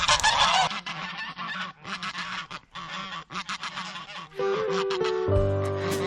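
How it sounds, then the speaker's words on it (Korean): Geese on a rural farm honk loudly and close by, with repeated overlapping calls in a dense chorus, then a more sustained nasal honk near the end, with no talk. "때마침 거위들이 이곳으로 방범 순찰을 왔다."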